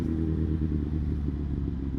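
Motorcycle riding through traffic, its engine giving a steady low rumble and clatter, close and continuous, with road noise and no talk during the clip.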